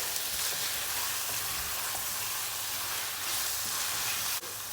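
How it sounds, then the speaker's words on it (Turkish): Tomatoes sizzle and fry with tomato paste in a pan over medium-low heat, a steady close hiss with occasional stirring scrapes throughout. "Şöyle domatesi de salçayla bir buluşturuyoruz."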